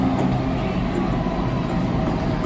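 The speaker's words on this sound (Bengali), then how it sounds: "ফাইনালি মেট্রো চলে আসছে, এই যে মেট্রো দেখতে পাচ্ছ।" A Kolkata metro train pulls into an underground station, a steady, loud low rumble and roar that fills the platform without letup.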